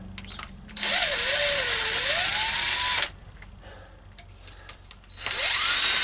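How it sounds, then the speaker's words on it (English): Impact wrench on old rusted exhaust manifold bolts during a cylinder head removal: two loud whirring bursts with a pitch that wavers and climbs, separated by a quieter gap of faint clicks and shop noise. "Watch out when you use impacts, if you have any dirt or debris or anything, oil, that socket will fling it everywhere."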